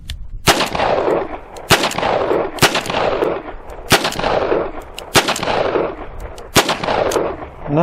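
A Rock Island .38 Special revolver fires seven sharp, loud shots at roughly even intervals, each one followed by a short echoing decay.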